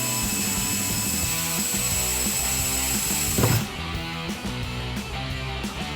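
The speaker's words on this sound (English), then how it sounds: "So I'm gonna go ahead and get this in the drill." A power drill bores a hole for a rear spoiler on a 2010-2014 Ford Mustang, a steady, loud whirring drone that changes pitch at mid-clip and then settles back into a continuous grind.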